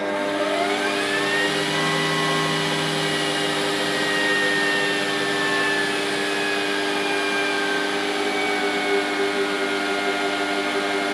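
A mini lathe spins while taking a light skim pass on metal stock, a steady close machine whine with a sustained hum and gently shifting tonal pitch throughout.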